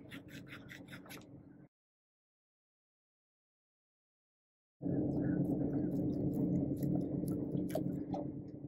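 A seal is pulled off the shaft of a low-pressure saltwater pump aboard a Nordhavn 46 boat, giving close, soft rubbing and scraping in two bursts split by a few seconds of silence.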